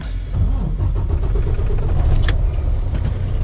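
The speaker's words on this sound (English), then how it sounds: "Now, start my truck back up." A commercial over-the-road semi truck's engine starts up with a deep, close rumble that settles into a steady idle.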